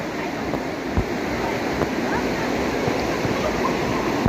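A rain-swollen stream rushes steadily in a dense, continuous wash of water noise, close and even throughout, with a few faint knocks underneath.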